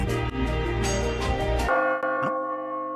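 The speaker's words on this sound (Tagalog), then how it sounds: "Pero tumutunog ang mga kampana ng impyerno." Church bells ring out over a dense, busy mix of music and noise, then a clear sustained chime lingers with long resonant overtones as the clutter drops away.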